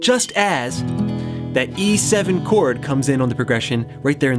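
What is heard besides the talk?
No everyday noises stand out.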